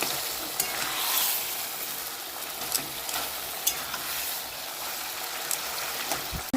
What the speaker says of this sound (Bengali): আর একটু ভেজে নিব রসুন আর লঙ্কাটা